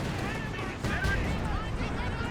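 Artillery strike landing in a Company of Heroes 2 4v4 match on the White Ball Express map, a broad rumbling blast with crackling impacts across a couple of seconds, under steady battle noise.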